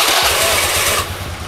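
A carbureted Honda Vario Techno 110 scooter fitted with a hyper ignition coil cranks and catches, settling into a loud, close, pulsing low idle.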